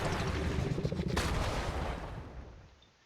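Li-Ming casting spells in a video game, a dense burst of crackling, rapid-fire blasts that rings out loudly for about two seconds and then fades away.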